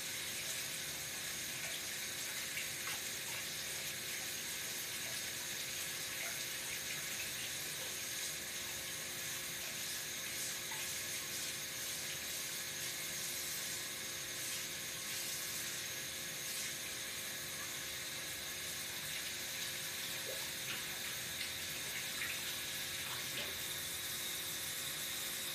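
Lukewarm water running steadily from a tap into a container, a continuous even hiss and splash that stays constant for the whole stretch at moderate volume with no talking.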